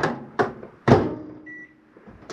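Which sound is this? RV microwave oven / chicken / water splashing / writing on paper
RV microwave oven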